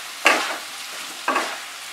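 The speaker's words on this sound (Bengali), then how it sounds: "ফ্লেমটাকে মিডিয়ামে রেখে এবার মশলাটাকে মেশাবো এবং আলু পেঁপে ডালনাটাকে কষাতে হবে।" Spice paste for potato and papaya dalna being stirred and fried over a medium flame: two sharp scraping, sizzling strokes about a second apart, with a faint frying hiss between them.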